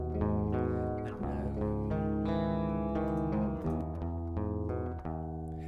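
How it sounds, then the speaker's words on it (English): Strummed acoustic guitar chords ring out with sustained, layered tones, changing every second or so, played alone and fairly loud. "I doubled it up with an acoustic guitar, which I shall play now."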